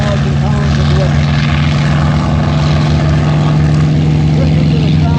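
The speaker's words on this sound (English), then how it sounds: "Listen to the sound of the engine." A loud propeller warplane engine drones steadily at an air show, with a deep, constant hum and rough, throbbing texture, close and unbroken.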